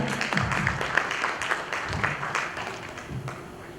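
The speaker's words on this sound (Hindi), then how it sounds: "एक और दोबारा से जोरदार तालियां हो जाए" A crowd applauds steadily, a dense wash of clapping that holds at an even level throughout.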